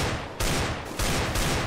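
Rapid automatic gunfire in Counter-Strike on the Inferno map, close and loud, continuous spray with short breaks between bursts.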